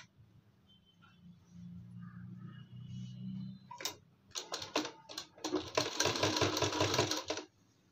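A sewing machine stitches the back pleats of a Patiala salwar in close, loud bursts of rapid mechanical chatter, starting after a quiet hum and some faint handling.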